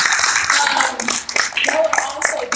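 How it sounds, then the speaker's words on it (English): An audience applauds for a group of women, a dense, steady round of many hands clapping close by with scattered cheers mixed in. "Give them another round."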